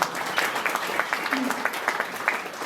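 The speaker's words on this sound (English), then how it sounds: "let's give the Mayor a big round of applause" Crowd applause at an official festival opening, with scattered clapping and a murmur of voices beneath, fairly steady across the few seconds.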